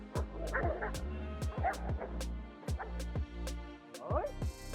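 A dog barks at another dog through a fence in a rapid run of sharp, close barks and yips, about a dozen in under five seconds, mixed with whimpering tones.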